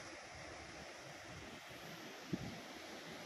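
Strong Pacific Ocean surf at Bagasbas beach in Daet, Camarines Norte, a spot used for surfing and kite surfing, heard as a steady, faint broadband roar with some wind and one brief knock near the end.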